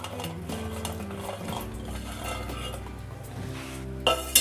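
A spoon stirs veg biryani ingredients, including fried paneer and peas, inside a pressure cooker, giving soft scrapes and a few sharp metallic clinks near the end over faint background music.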